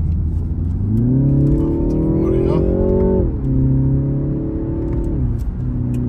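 A 2021 BMW G20 330i sedan with a 258 hp engine accelerating hard, its engine note rising loud and close through the gears, with a brief dip at a shift.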